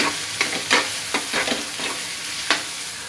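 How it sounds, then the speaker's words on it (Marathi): Chopped tomato is stirred into frying masala in a pan, a steady sizzle with a rhythmic series of spatula scrapes and taps at close range, and no voices. "त्यात आता मी हा टोमॅटो टाकणार आहे. आणि त्याला पण आपल्याला त्याच्यामध्ये मिक्स करून घ्यायचं आहे"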